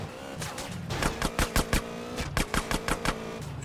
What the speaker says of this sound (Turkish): Motoru ilk kez kullanıyorum.